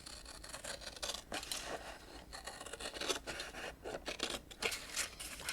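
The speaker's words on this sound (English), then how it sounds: "Let's cut this. I'm just gonna cut same distance around it." Scissors snip steadily around the edge of a journal cover, a continuous run of close, crisp rasping cuts with brief pauses between strokes and no talking.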